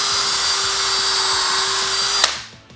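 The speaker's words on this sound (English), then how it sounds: "and then we'll drill a hole." A power drill in high-speed gear 2 whines at a high, steady pitch, boring a hole close up, then cuts off abruptly and spins down to quiet.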